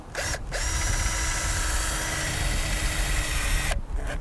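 A power drill driving screws into an RV awning bracket, a loud, steady whirring that runs for several seconds with short pauses at the start and end, no talking.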